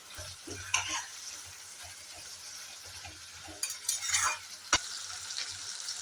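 Chicken is stir-fried in a pan for a Bengali-style chicken jhol: a soft, steady sizzle with quick scraping stirs and a few sharp spatula clacks against the pan.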